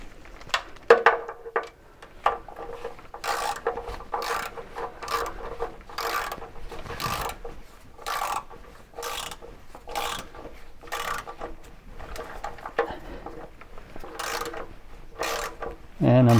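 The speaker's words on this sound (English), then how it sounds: "So now I'm going to torque them up, and I'm just going to torque them at 13 foot-pounds" A torque wrench tightens timing cover bolts to 13 foot-pounds on a C3 Corvette engine. Close, short bursts of ratcheting clicks come in a steady rhythm about once a second, each bolt pull sounding in turn.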